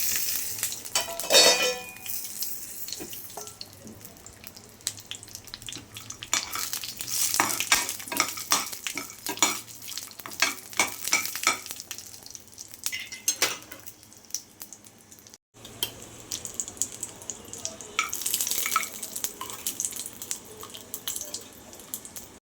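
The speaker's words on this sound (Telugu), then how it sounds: "ఈ విధంగా కాజుని దోరలుగా వేపుకొని ప్రసాదంలో వేసేసుకోవాలి." Cashews fry in a pan for a sweet offering, with a steady crackling sizzle and frequent stirring scrapes and clicks throughout, briefly dropping out once before resuming.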